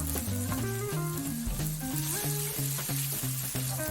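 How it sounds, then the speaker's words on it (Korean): Minced garlic and thinly sliced pork belly sizzle and crackle steadily in chili oil in a pan, close and continuous, with faint stirring and background music. "다진 마늘 1 큰술을 넣고 우삼겹이나 대패 삼겹살 한 움큼을 넣어 볶아줍니다"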